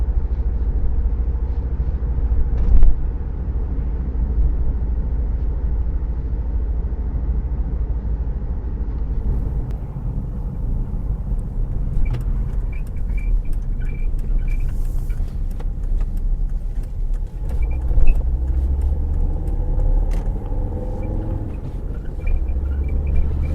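A car drives along Alkham Valley road with a steady low engine and road rumble heard from inside the cabin, continuous and fairly loud, with a few faint clicks from the indicator and no talking.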